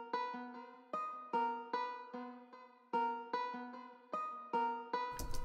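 Sampled acoustic guitar preset from a music software library plays a steady picked pattern of bright plucked notes, each attack ringing and fading, with a short noisy burst at the very end; no voices.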